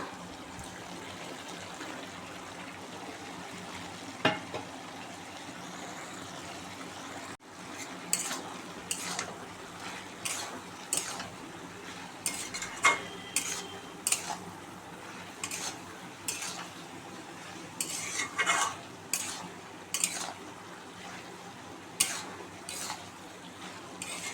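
Fried prawns are stirred into bottle gourd in a pan, giving a soft ongoing sizzle under repeated scraping and clinking strokes that grow busier and more irregular as the stirring continues.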